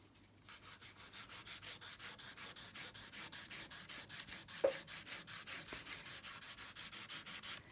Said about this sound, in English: if you're having to file that much, you need a better file